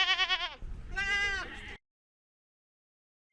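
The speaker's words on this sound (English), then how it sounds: "With over 100 goats, they're splendid to see." Goats at a goat farm in Fuerteventura in the Canary Islands give two close, loud wavering bleats one after another, then near silence with a faint sound right at the end.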